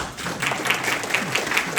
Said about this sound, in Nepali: हामी आफै नै हाम्रा लागि नै ताली बजाउँ